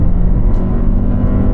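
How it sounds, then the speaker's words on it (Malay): A Lexus NX 350h hybrid engine accelerates steadily, a smooth, moderately loud drone heard close up with no talking. "Bila tekan tu dia pergi sekali, speed tu pergi sekali dengan bunyi enjin tu, pembakaran enjin tu"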